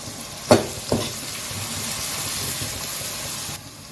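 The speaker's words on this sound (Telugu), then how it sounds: "ఇప్పుడు మిగిలిన ఆనియన్ కూడా వేసేసుకుంటున్నా ఈ వేగిన తర్వాత మనము పచ్చిమిర్చి వేసుకోవాలి" Onions fry in a pan for a Chennai-style tamarind fish curry, a steady close sizzle and hiss with a couple of sharp utensil clinks from stirring near the start.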